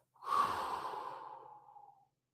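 A single deep breath is exhaled through the mouth, a soft close airy rush that swells quickly and then tapers away over about two seconds, alone in silence.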